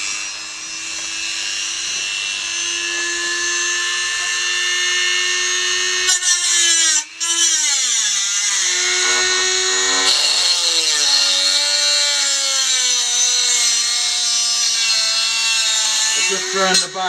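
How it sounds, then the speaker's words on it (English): A Dremel rotary tool cuts in a garage with a loud, high, continuous whine. The pitch sags and recovers several times as the cutting wheel bites and loads, and there is a brief dropout partway through. "Press the old Dremel."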